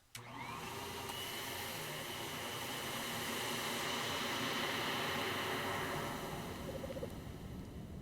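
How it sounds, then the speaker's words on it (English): A steady vacuum cleaner whine and whoosh drones on continuously, muffled and somewhat distant, with a slight rise in level midway. "I wake up to the sounds of a distant vacuum cleaner."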